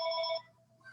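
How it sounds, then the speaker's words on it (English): A telephone rings with a bright, steady electronic trill that cuts off partway, followed by a quiet pause and the start of another ring near the end. "No, go get your phone. Sorry about the phone."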